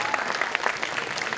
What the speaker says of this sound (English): So clap it up for Venu Uncle and Divyanti.